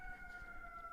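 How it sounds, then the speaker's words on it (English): Emergency vehicle siren wailing outside on a New York street, a steady two-tone drone held at moderate level throughout, distant and alone, ending in a sudden loud click. "that siren is getting so annoying"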